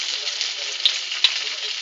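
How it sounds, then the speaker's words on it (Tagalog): Lumpia fry in hot oil in a pan, a dense, steady close sizzle with two brief sharp pops. "ipiprito na po natin siya dun sa pan"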